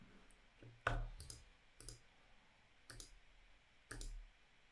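Mouse clicks at a computer while placing a buy order on a crypto trading exchange, a few sharp isolated clicks spaced about a second apart, close and fairly quiet with no talk.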